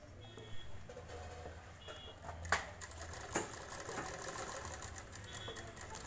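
A sewing machine stitches a blouse lining in short quiet bursts of rapid whirring, with faint beeps and a few clicks from handling the fabric.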